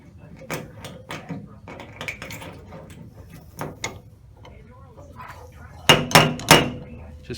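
A small pointy body hammer taps on a car quarter panel: scattered sharp metallic knocks at first, then a cluster of three loud ringing strikes near the end, with quiet shop background between hits.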